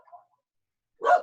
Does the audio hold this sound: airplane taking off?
no